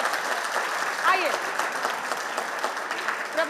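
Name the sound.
audience applause welcoming two poets on stage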